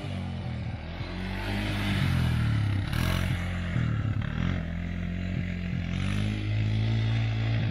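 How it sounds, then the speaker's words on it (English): An ATV four-wheeler engine is held wound up in first gear during a burnout attempt, a loud continuous revving drone with fluctuating pitch and rough clattering, steady throughout at close range. "we just fired the four-wheeler up. He's trying to get it to burn out."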